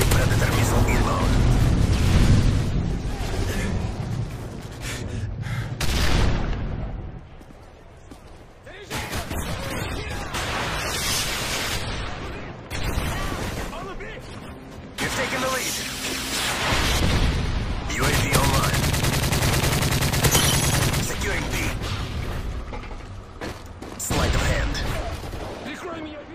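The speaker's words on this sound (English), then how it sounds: "Friendly Predator missile inbound." Explosions and heavy gunfire from a Predator missile strike in a Call of Duty multiplayer match, with loud sustained booms and crackling fire that pause briefly around the middle before surging again.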